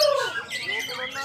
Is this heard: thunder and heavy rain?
no